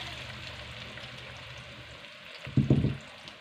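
Onions dropped into hot ghee in a kadai, a low steady sizzle with a louder splashing burst near the end as they hit the fat, no talking.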